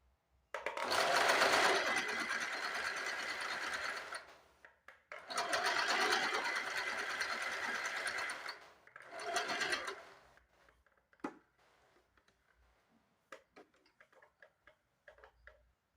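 A sewing machine stitches around a blouse belt in three runs, the longer two lasting a few seconds each, a close, rapid ticking whir followed by scattered handling clicks.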